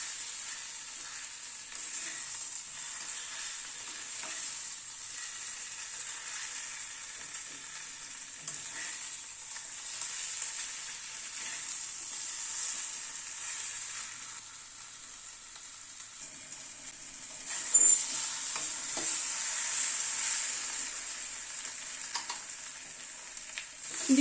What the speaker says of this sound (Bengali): এই ডিম আলুটা দিয়ে মশলাটাকে আবার একটুখানি কষিয়ে নেব